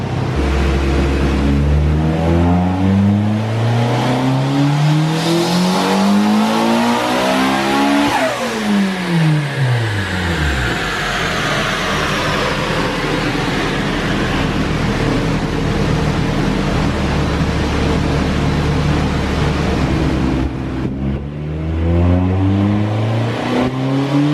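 An Integra's engine revs repeatedly during tuning, rising and falling in pitch, loud and close, with a sustained high-rpm stretch in the middle and no talking.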